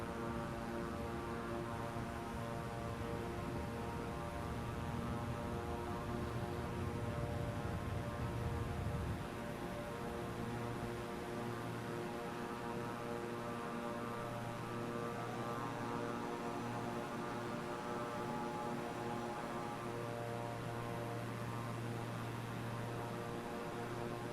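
Airplane engines roar steadily and loudly from inside during takeoff from runway 01, a continuous droning hum that drops in the lower register partway through and carries on evenly.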